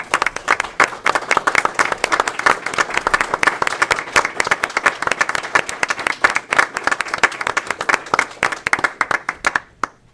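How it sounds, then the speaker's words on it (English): Loud applause from a crowd at a village board meeting, many hands clapping steadily for about ten seconds before tapering off at the end. "I'd like to give a nice standing ovation, a round of applause"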